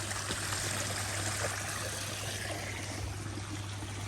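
Creek water begins to flow into a pond, a quiet, steady trickle and gurgle at close range under a low, constant hum.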